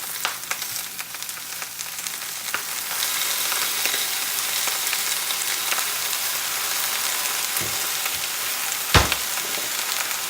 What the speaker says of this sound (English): I hit this with a touch of soy sauce.